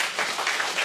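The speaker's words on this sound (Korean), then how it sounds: "박수해 주시고" A church congregation applauds at a Sunday morning service, a dense, steady wash of many hands clapping for a brief moment.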